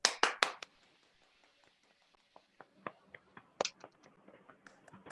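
Scattered hand claps from a graduation ceremony audience honoring the speaker's mother, a few loud close claps at first, then sparse, uneven taps and claps that fade and pick up again, with no voices.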